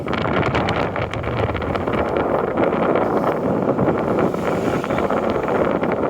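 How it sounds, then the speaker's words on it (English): Steady, heavy wind roaring and buffeting the microphone throughout on the Macdonald Bridge in Halifax, a constant broadband rush with no voices. "There's a lot of wind blows off there."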